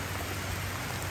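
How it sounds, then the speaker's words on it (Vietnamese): Heavy rain pouring down during a motorbike trip in the Mekong Delta countryside, a dense, loud, unbroken hiss of rainfall with no voices. "Quá chừng mưa rồi."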